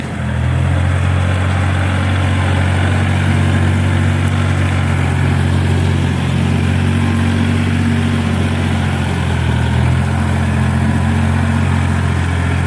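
A small farm tractor engine runs steadily near a watery rice-farming patch, a loud, even mechanical drone with a low throbbing hum that holds without a break for the whole stretch.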